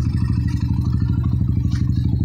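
A Honda XR 200 motorcycle engine idling close by, a loud, steady low thumping putter with a fast, even firing rhythm and faint mechanical clatter on top.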